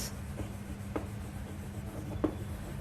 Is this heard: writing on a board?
yes